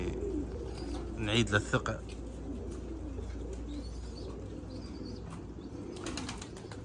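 Pigeons in a loft coo softly and a brief flurry of wing flaps sounds close by, while someone talks over low steady background hum.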